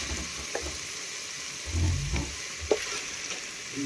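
Food frying in a pan for a Kashmiri nadir churme (lotus stem) dish, a steady low hiss with a few soft stirring scrapes and small clatters, moderately close, no talking.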